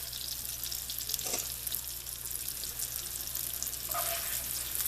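Diced sweet potatoes, peeled and boiled beforehand, frying in a pan, giving a steady close sizzle and hiss throughout, with a brief clatter or stir near the end and no talking.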